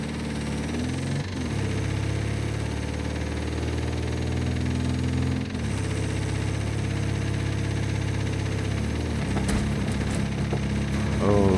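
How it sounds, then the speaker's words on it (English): A damaged car engine in the racing game Wreckfest 2 runs steadily with a rough, droning hum, rising and falling in pitch a few times and dropping briefly twice, loud and continuous throughout. "my engine's already messing up on me"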